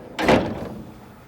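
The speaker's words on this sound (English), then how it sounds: "And then you can go ahead and close the drawer." The paper drawer of an HP DesignJet XL 3800 large-format printer slides shut with a single close, solid thunk followed by a short fading rumble.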